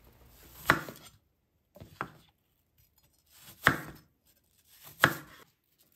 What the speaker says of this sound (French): Épluchez 2 pommes, coupez en quartiers puis en tranches.